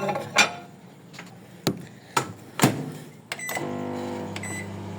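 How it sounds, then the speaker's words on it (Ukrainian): A few sharp clicks and clunks, like a door closing and buttons pressed, then a steady electric hum starts as a microwave oven begins heating cheese. "якщо у вас є мікрохвильовка, я сподіваюся, вона у вас є, то кладемо в неї"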